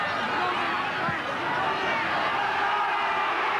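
Rugby league stadium crowd at a 1991 Manly versus Western Suburbs match, a dense, steady roar of massed voices jeering and calling out throughout, with no clear individual words.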